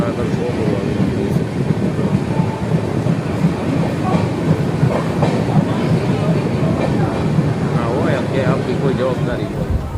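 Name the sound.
Saurashtra Mail express train running, inside general coach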